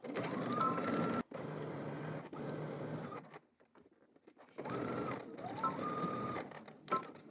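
A sewing machine stitches a 5/8 inch seam in two steady runs, whirring at close range with a brief pause between them, and no voices present.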